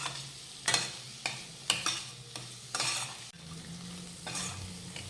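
Finely chopped medium capsicum sizzles in a pan while a spatula stirs it in about six regular scraping strokes over a steady, close frying hiss.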